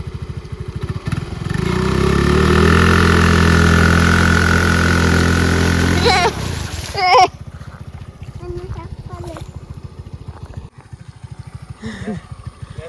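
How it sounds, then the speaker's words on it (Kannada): A vehicle stuck in a paddy field runs its engine with a loud, steady droning hum for about six seconds, then the engine cuts and shifts pitch. Quieter knocks and voices follow. "ಗಾಡಿ ನೋಡಿ ಗದ್ದೆಗೆ ಬಂದಿದೆ, ಗಾಡಿ ಹೋಗ್ತಿಲ್ಲ"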